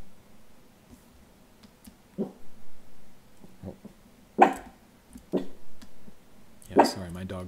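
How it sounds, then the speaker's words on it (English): A small dog barks in a home in several sharp, separated bursts spread across the stretch, fairly close and loud against a quiet background. "Sorry, my dog is barking, but there's not really anything I can do about it because she's the barkiest little dog ever."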